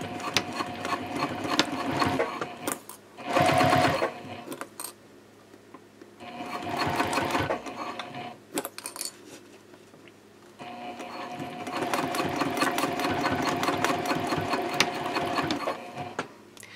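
A sewing machine stitches layers of fabric with a 3/8 inch seam and a 3.0 stitch length, running in several rapid, steady mechanical bursts separated by short pauses and close to the listener.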